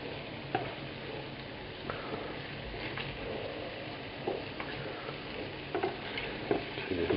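Italian meatballs, a 1950s restaurant recipe, frying in a covered pan, giving a steady low sizzle with occasional soft pops and ticks throughout, close and moderately quiet with no voices.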